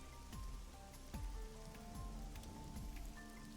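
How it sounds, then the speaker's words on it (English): Steady rain pelts a parasol in the game AI: The Somnium Files, a dense continuous patter with low thudding drops and occasional brighter ticks, with no talking over it. "Parasol is getting pelted by the rain."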